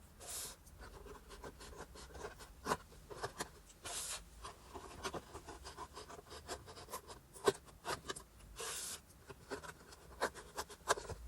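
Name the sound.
cutting away small tabs from candle theatre opening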